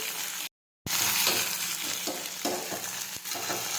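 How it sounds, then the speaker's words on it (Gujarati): Chopped spiny gourd (kantola) sautéing in a pan with crushed garlic, a steady close sizzle with scraping stir strokes, broken by a brief silent gap near the start. "હવે આપણે સમારેલા કંટોલા નાખીશું. હવે આપણે સાતળી દઈશું."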